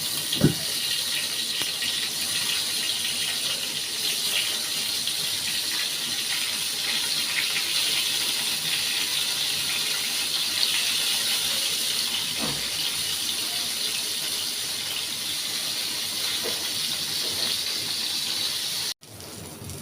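Slices of pointed gourd coated in chili, turmeric, salt and cumin fry in hot oil, giving off a loud, continuous sizzling hiss that barely changes throughout.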